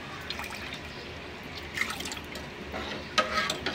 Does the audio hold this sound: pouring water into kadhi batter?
yes